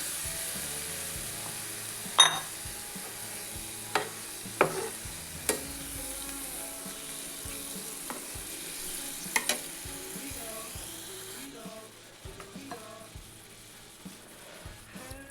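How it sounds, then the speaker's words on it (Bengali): Curdled yogurt sizzles softly into raw papaya curry over a low flame, a steady faint hiss broken by sharp spoon taps and stirring clinks in a pot. "এবার আমি একদম ফ্লেমটাকে লোতে রেখে এই ফাটানো দইটা দিয়ে দিচ্ছি"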